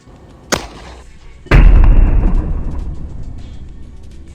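.45 ACP solid copper super velocity hollow point rounds are fired at a British Army Virtus ballistic helmet: a sharp crack, then a second much louder report a second later, ringing out into a long, rumbling decay.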